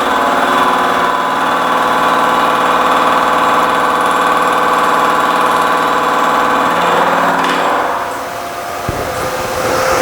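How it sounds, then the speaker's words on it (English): A machine runs steadily through a cutting pass on a dice-making project, making a loud, even mechanical drone that drops and winds down near the end. "Turn on the machine."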